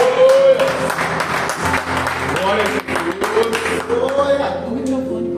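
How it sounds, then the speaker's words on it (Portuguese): Church congregation applauding, scattered hand claps under a prominent voice that speaks or sings over the clapping, fairly loud and close throughout. "Vamos aplaudir Jesus pela vida deles?"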